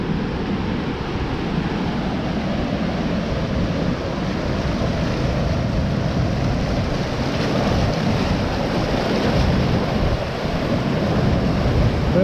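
Floodwater from flash flooding at Little Egypt, rushing over a road and bridge, makes a steady, broad roar that continues unbroken for about twelve seconds, with wind buffeting the microphone and no voices.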